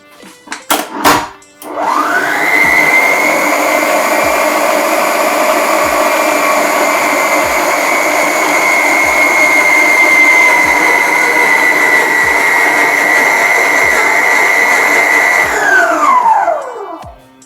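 An electric mixer beats cake batter for cheese bread at low speed, starting after a few clicks and then whirring steadily for about fifteen seconds before winding down. The motor is loud and close, with no voices.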